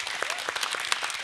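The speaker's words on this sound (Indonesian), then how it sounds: "tepuk tangan dong" Applause from a crowd at a Scout movement anniversary celebration in Indonesia, dense steady clapping filling the whole moment at moderate distance.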